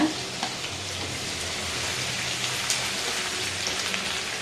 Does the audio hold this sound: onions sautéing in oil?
yes